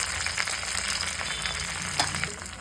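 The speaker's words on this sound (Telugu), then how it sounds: "తాలింపు వేస్తున్నానండి జీలకర్ర ఆవాలు మెంతులు వాము" Cumin, mustard seeds, fenugreek, ajwain and dried red chili tempering in hot oil for tomato rasam, a close, continuous sizzle and crackle with small pops and a brief stir, no talking.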